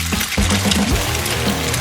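Water poured into a bowl during a kitchen cooking challenge, a short close splashing and trickling stream that runs steadily without a break and without talk.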